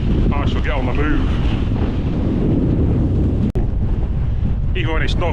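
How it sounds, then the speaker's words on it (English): Strong gusting wind, near 40 mph in gusts, roars across open Peak District moorland by the Barbrook stone circles. Constant buffeting rumble against the microphone, with a voice partly heard beneath it. "you can probably hear the wind"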